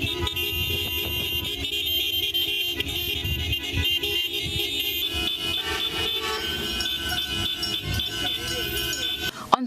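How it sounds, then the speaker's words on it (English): Car horns honk across the country in a nationwide solidarity protest, sustained tones and overlapping toots forming a continuous loud blare beneath a narrating voice. "Motorists honked their horns everywhere throughout the country in solidarity with public officers."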